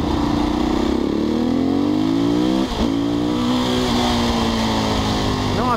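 A Husqvarna motorcycle revs in traffic, its engine note rising loud and close, dipping briefly midway, then climbing again, with faint talk underneath.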